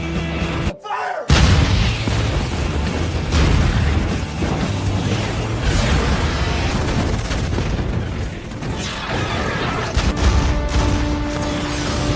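A dome-shaped transmitter device blows up in a science-fiction film about a newly discovered Earth-like planet, a loud booming blast after a brief silence, followed by sustained crashing, rumbling destruction throughout.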